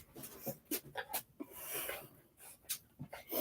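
A visiting dog pants close by in quick, rhythmic huffs, with faint whimpers mixed in and no talk.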